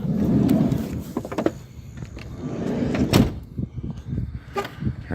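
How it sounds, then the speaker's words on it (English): A door pulled shut with a few clunks and rattles, then keys working the lock, recorded close on a street-side exit beside a parked van. "Lock the door."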